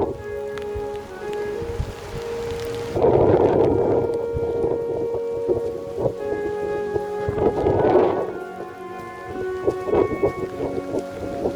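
Steady rain falls during a hike along the Ridgeway in March, with deep rumbles of thunder rolling in around the third and eighth seconds, close and continuous, with no voices.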